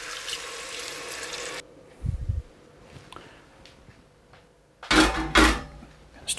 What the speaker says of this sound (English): Now I've got the lamb in, I've just got to add enough water to cover it.